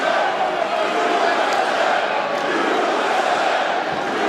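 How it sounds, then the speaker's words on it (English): A Boston crowd at a UFC fight roars in a steady, dense wash of cheering that continues without a break. "Boston crowd getting behind the American Jeremy Stephens."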